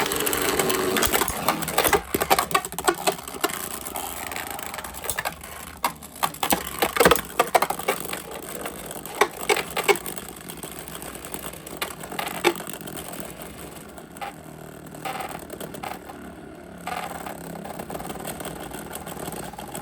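Beyblade X spinning tops clash inside an ice stadium, with rapid clattering hits and scraping spins, busiest early on and then settling into a steadier whirring grind, close and without talk.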